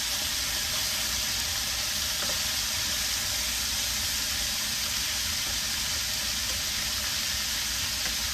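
Hamburger meat cooks in a pan with a constant, even sizzle that holds at a moderate level throughout.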